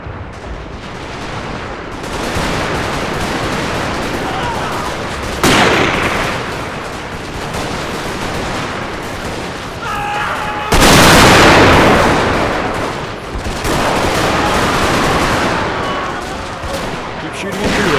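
Battle din from an American Civil War Total War strategy game, the 1863 Battle of Conewago Creek: continuous rolling musket fire and booming artillery, with louder bursts standing out, and a voice talking briefly over it.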